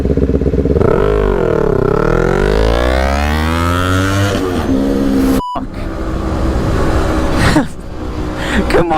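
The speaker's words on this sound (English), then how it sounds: "Here we go, green light race. Ninja 400 versus Ninja E1." A gasoline Kawasaki Ninja 400 and an electric Ninja E1 launch together from a green light, the petrol engine revving hard through rising gear sweeps near and loud, then a sharp cut and further revving bursts.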